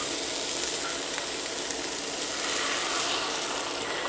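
An omelet with Canadian bacon and tricolor peppers fries in a pan, giving a steady, dense sizzle with faint scattered crackles and no voices.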